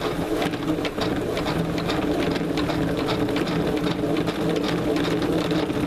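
An O-Cedar spin mop bucket being spun gives a steady, dense mechanical whirring and rattling, loud and close throughout.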